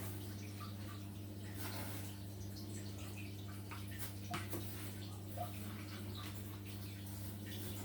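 Running water rinses salted, fermented food for a Bicolano dish, a steady close wash of trickling and splashing over a constant low electrical hum, with no talk.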